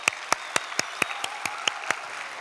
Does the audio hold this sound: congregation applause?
yes